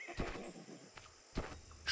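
A horse in the farming game Farmer's Life gives a few soft hoof thumps and snorts against a faint, steady background hum.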